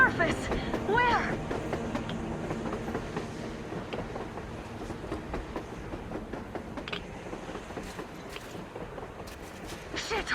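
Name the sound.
train passing on the surface in video game Metro Exodus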